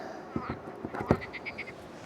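Several short croaks from frogs near a landing spot, some low and pulsing, others higher and chirping in quick bursts against faint outdoor background, with no talking.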